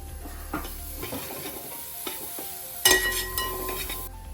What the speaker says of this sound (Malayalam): നമുക്ക് അതിലോട്ട് കുറച്ച് ഗാർലിക് ഇട്ട് കൊടുക്കാം